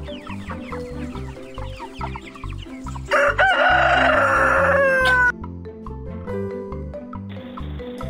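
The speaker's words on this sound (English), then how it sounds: "chicken." Chicken clucking and crowing among farm livestock, with repeated clucks and a loud rooster crow in the middle, set over a rhythmic backing beat.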